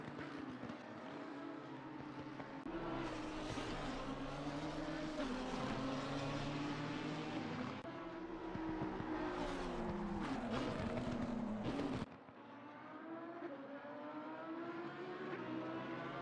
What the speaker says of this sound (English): Huracan versus GTR as they mount the crest in towards Skyline.